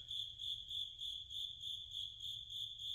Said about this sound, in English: I don't know if y'all can hear the cricket in the background or not. I like these crickets.